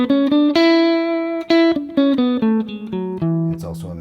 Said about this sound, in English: Here's Mixolydian.